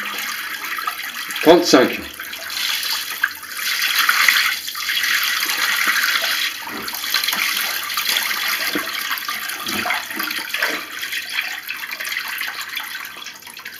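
A bucket of water from a shower test poured out, making a loud splashing rush that fades into trickling, with a voice briefly heard.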